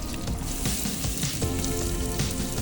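Onion tossed into very hot oil fries with a busy, crackling sizzle, continuous and fairly close, over a low rumble of background noise.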